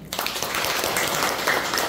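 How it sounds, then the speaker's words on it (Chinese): A concert audience at a guided listening event for a Sibelius piano trio breaks into dense, steady applause that starts abruptly and stays even and close for the whole stretch. "拍手一下"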